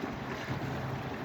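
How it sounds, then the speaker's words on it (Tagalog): Loud, choppy waves wash in at a lakeview beach on a windy day, with a dense roar of water and heavy wind buffeting the microphone, close and continuous. "Napakaingay ng alon."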